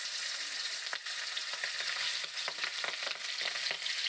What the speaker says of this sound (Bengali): এবার দিয়ে দেব নুন হলুদ মেখে রাখা মাছগুলো।